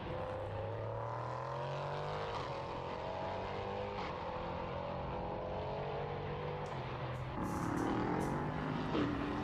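A 5.6 litre Nissan V8 race car engine at Portimão circuit revs hard out of a turn, climbing through gears with a steady rising drone and a gearshift near the end, heard from a distance.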